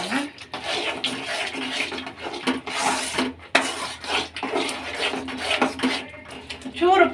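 Apple gourd masala of coriander powder, chilli powder, garam masala and turmeric frying in a pan, with continuous scraping and clinking of a utensil against the metal and a soft sizzle close by.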